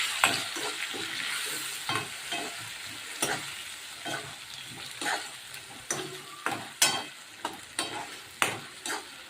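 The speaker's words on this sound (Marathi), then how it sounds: "टमॅटोची पेस्ट आणि छान असं परतून घ्यायची" Tomato paste sautés with coriander powder in a pan for ISKCON-style khichdi, a soft sizzle broken by repeated spatula scrapes and stirring strokes at an uneven rhythm, nearby and fairly quiet.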